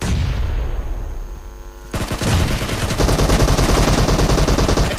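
Gunfire in the mobile battle royale game Battlegrounds Mobile India: a quieter stretch, then loud, rapid automatic bursts crackle continuously from the two-second mark onward.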